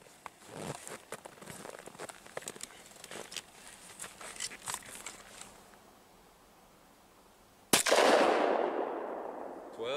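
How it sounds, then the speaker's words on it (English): A Glock Model 40 10mm pistol fires across a chronograph outdoors, a single sharp, loud report near the end that rings out and decays slowly, after several seconds of light rustling and handling noise. "First, we're going to send it over the chronograph, see what it does in the Glock Model 40."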